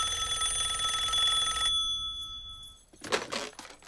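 An electronic phone rings with a steady, bright repeating tone for about two seconds, then cuts out, followed by some handling noise.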